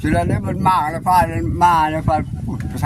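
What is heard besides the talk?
No everyday noises stand out.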